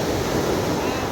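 Ocean waves wash onto Kovalam Beach near Chennai, Tamil Nadu, a steady broadband surf roar with some wind noise on the microphone, loud and continuous throughout.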